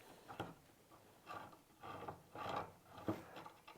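A bolt being loosened on a FOX mountain bike fork, heard as several faint, close ratcheting clicks and creaks in irregular bursts against a quiet background.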